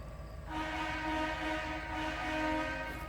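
A long, steady train horn blast starts after a brief pause and holds loud and unbroken to the end, with a low rumble underneath.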